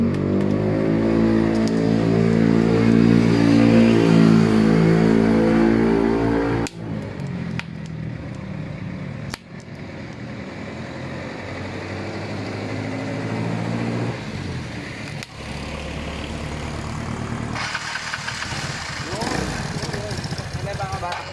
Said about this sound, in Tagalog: Tatakbo yung makina, sabi niya.